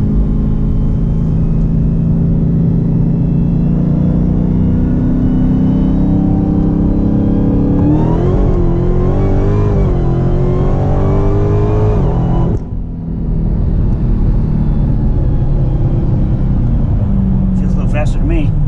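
An 840 hp Dodge Demon accelerates hard, its loud engine climbing steadily in pitch through the gears with a brief lift-off dip before pulling again, as people talk inside the car.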